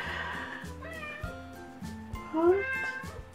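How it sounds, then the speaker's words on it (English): A cat demanding to be let out meows several times in a row indoors, close and fairly clear, with the cries rising in pitch toward the end. "It's the cat."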